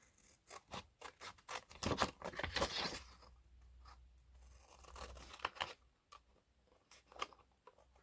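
Scissors snip through old book pages in a quick series of close crisp cuts, with papery rustling and tearing as the sheets are handled between snips.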